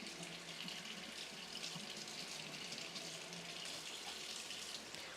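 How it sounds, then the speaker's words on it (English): Cold tap water runs steadily over drained pasta in a kitchen sink, a quiet continuous hiss and splash with no talking. "And then cold water to stop it from cooking."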